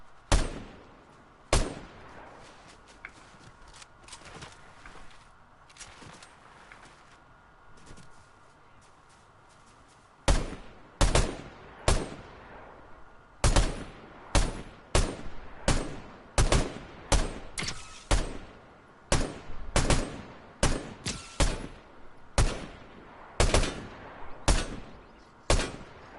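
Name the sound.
gunfire in a video game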